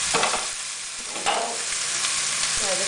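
Beef browning in a pot with a whole onion added, giving a steady broadband sizzle with a few soft stirring knocks and scrapes close by, no voices.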